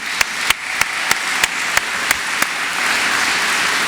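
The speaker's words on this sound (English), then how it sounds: "So let's get a round of applause for them." Graduates at a university commencement receive applause, a burst of clapping from the crowd with a few sharp, loud claps standing out near the start before settling into a steady wash.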